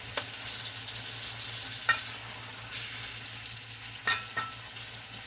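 Saved chicken pan juices sizzle steadily as they heat up in a pan, a continuous close hiss with a few brief stirring scrapes, no talking.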